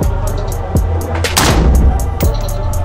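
A single loud shotgun shot cracks close by and rolls away in a long echoing boom over a steady background drone.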